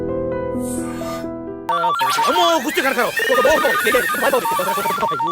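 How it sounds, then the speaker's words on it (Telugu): A telephone rings repeatedly in a Telugu comedy scene, its electronic ring tone looping over lively background music and commotion, loud and close. "ఏమయ్యా కిస్మత్ కుమార్, ఎంతసేపు అయ్యా ఫోన్ ఎత్తడానికి?"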